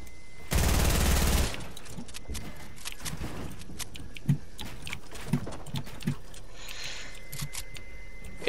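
Gunfire in the video game Fortnite: a loud dense burst of shots up front, then scattered single shots and softer clicks and footsteps through the rest.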